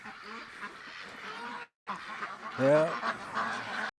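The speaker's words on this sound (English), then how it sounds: "all poor little female ducks getting mated like crazy" Ducks quack and honk during mating, with several raspy calls in bursts close by, one loud cluster near the middle, and a person's brief spoken word mixed in.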